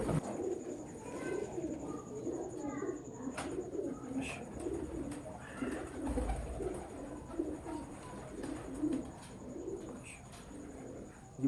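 Sialkoti breeder pigeons coo in soft, repeated throaty phrases close by, a low steady murmur of several birds with a faint background hiss and no talking.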